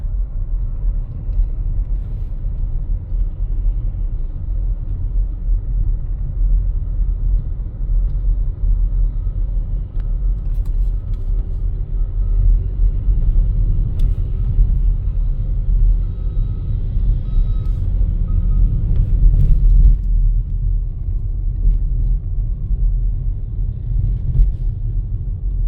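A car creeping through a road construction zone at about seven miles an hour, with a steady low engine and road rumble, heavy vehicles and faint reversing beeps nearby, continuous throughout.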